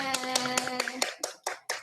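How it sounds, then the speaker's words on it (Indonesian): Classroom audience at a peer-teaching session clapping together for a presenter, a short run of sharp, evenly spaced claps in unison over a sustained tone, then a few scattered claps as it fades out. "Berikan tepuk tangan untuk Bu Ummul."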